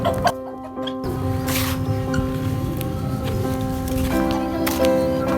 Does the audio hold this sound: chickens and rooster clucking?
yes